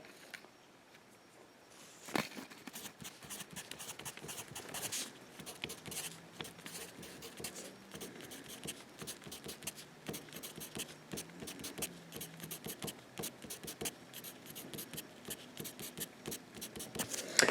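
Pen or marker scratching steadily across paper or a board while a structural diagram for pentanoic acid is drawn by hand in a chemistry lecture, a run of close, dense strokes and taps with no talk.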